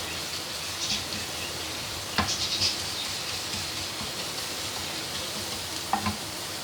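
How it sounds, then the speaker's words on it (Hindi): Chopped garlic sizzles in oil over a low flame while making Korean fried chicken, a steady close hiss with a few brief louder crackles and spits. "इसको थोड़ा सा फ्राई करेंगे। चूल्हा हल्का रखिएगा।"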